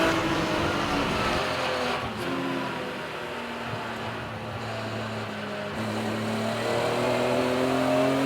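BMW race cars lapping Donington Park circuit, engines droning and revving as they pass, a continuous loud motor roar with pitch shifts and swells from several cars.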